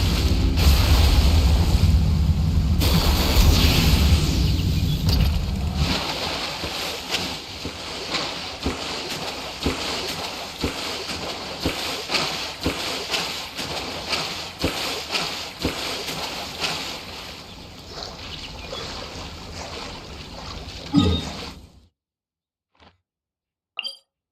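Boat engines in the video game Genshin Impact rumble deeply at first, then give way to a long stretch of choppy, pulsing broadband noise with splashy bursts before cutting to near silence.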